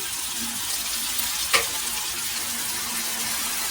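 Sliced onions with salt sizzle steadily in hot oil in a pan for mutton kheema curry, a continuous close frying hiss with one brief sharper crackle partway through and no talking.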